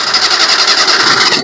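A Maruti 800 with a starting problem cranks over, a loud, steady, pulsing mechanical whir close by that runs for over a second, then abruptly cuts off.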